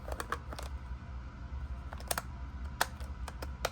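A few quick plastic clicks and snaps as a game cartridge slides into the slot of a Lego Game Boy, close and crisp, in small clusters against a quiet room background.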